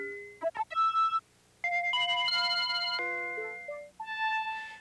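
Pre-recorded synthesizer tones from a 1984 Synclavier II digital synthesizer, a sequence of bright, clean sustained electronic notes and chords that step up and down in pitch, with short gaps between phrases and no talk.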